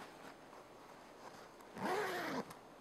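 A zipper on the front of a U.S. military uniform being opened in one quick, fairly close pull, preceded by faint fabric rustling in a quiet room.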